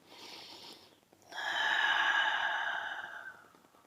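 A long, airy exhale during a stretching routine, soft and close, following a quieter breath, with no talking.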